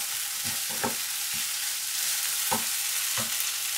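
Sauce bubbles and thickens in a pan, a soft continuous sizzle punctuated by a few gentle stirring scrapes and clicks, close up and quiet without any speech.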